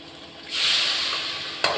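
Water poured into a pan of frying vegetables sets off a sudden loud hiss that holds steady, ending with a short sharp knock.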